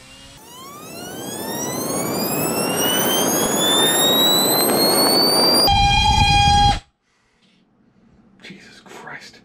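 Drone motors on a bench rig spin up on a 4S LiPo to 24,000 RPM, about 75% throttle: a loud rising whine with stacked tones climbing for several seconds, then a steady high pitch before it cuts off abruptly, leaving faint noise.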